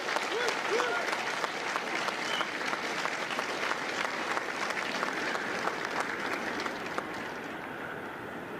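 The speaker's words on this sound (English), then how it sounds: "a round of applause for the Marines that make Marines, the drill instructors of Hotel Health" Sustained applause from a large audience at a Marine Corps recruit graduation ceremony at MCRD San Diego, steady and dense for the whole stretch with crowd noise mixed in.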